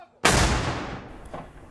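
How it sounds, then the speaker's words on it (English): Janiculum noon cannon firing in Rome: a single sharp, loud boom that cuts in abruptly and then decays into a long rumbling echo across the city. "Today we see the tradition of firing a cannon at noon."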